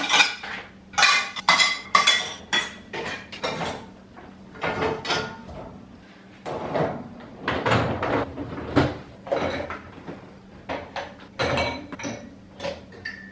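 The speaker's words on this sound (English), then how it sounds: "And I'm going to start doing the dishes," Dishes and cutlery are unloaded in a kitchen, with close, irregular clinks and clatters of plates and silverware plus thumps of cupboards or drawers opening and closing.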